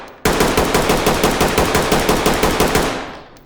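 A rifle fired on full auto in the shooter game Ready or Not, a rapid, loud, evenly spaced burst of about twenty shots with no pause, then a short fading tail as the firing stops.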